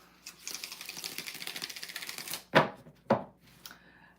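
A deck of cards is riffled with a rapid, crisp fluttering for about two seconds, followed by a couple of sharp snaps as the cards are squared up.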